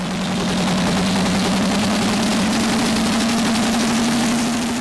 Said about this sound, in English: Moving swiftly on to Passion for Diesel, which is driven by 31-year-old Willy Monden from Bryne in Holland. It's a Case Magnum MX285